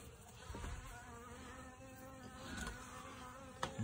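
Honey bees buzzing at a hive inside a mobile home trailer, a faint continuous droning hum with a few soft knocks nearby.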